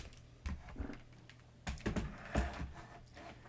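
Quiet, sparse keystrokes on a computer keyboard come in short uneven bursts of taps with pauses between them, set in a still room.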